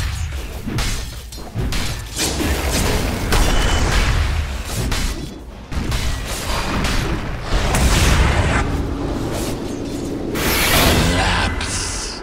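Dota 2 battle as the Dire middle tower comes under attack, with dense, loud booms, crashes and thuds rolling almost continuously, a few heavy impacts standing out amid the chaotic game noise.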